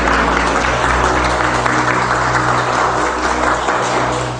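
A church congregation claps together after a reading at Mass, a broad, continuous wash of applause over a low steady hum, holding level throughout before easing slightly at the end.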